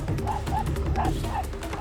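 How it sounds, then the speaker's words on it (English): A feisty Bali street dog gives a quick run of four or five sharp yips and barks in a steady rhythm, close and fairly loud over low background rumble. "Oh, this dog's feisty."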